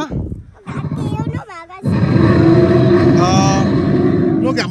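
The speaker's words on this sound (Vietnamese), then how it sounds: "Nó gầm to quá." A caged tiger at Mỹ Quỳnh roars loudly and close, in deep sustained bellows, while a voice and other people talk nearby.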